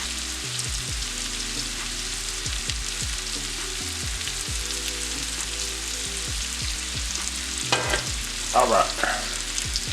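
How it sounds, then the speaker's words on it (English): Crab legs and pasta sizzle steadily in a hot pan while being stirred, giving continuous frying crackle with scraping and rattling strokes that grow busier near the end; a voice speaks briefly. "we're just gonna give that all a stir"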